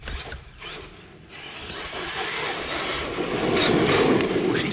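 An XMAXX RC truck drives around a backyard, its electric motor whining and tires rushing over the ground, building steadily louder toward the end with no talking.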